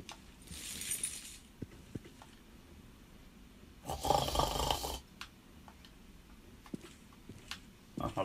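A man imitates snoring with his voice, two breathy rasping snore sounds, one short and one louder and longer, over a quiet room with faint clicks.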